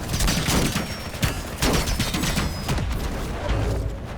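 Video game gunfire crackles as a dense, close fusillade: rapid overlapping shots and bursts at an uneven pace, loud throughout with no pause.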